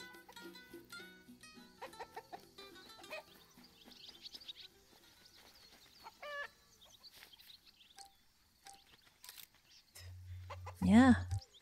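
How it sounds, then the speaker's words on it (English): Chickens cluck and squawk in the video game Alba a Wildlife Adventure, mixed with game music chimes and short bird chirps. The calls are scattered and faint, then louder near the end. "Chicken!"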